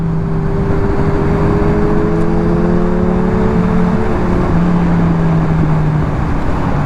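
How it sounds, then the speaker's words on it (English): A motorcycle with a deep, bass-heavy exhaust rumbles loud and close, its engine droning steadily with low tones that slowly drift in pitch as it runs on, no voices heard. "that bike has so much bass I can feel it in my chest just sitting here"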